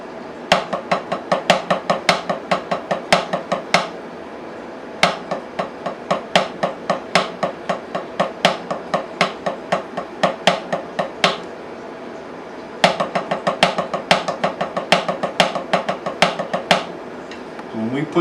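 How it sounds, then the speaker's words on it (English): Drumsticks play paradiddles with shifted accents on a practice pad: crisp, close wooden taps in fast bursts, with louder accented strokes standing out and short pauses between phrases. "here's the paradiddle with the changed accents. Same sticking, different accents."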